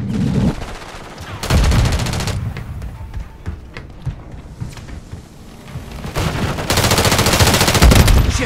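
Call of Duty gunfire: scattered single shots and two long, loud automatic bursts, one early and one sustained near the end, with a steady din of battle between them.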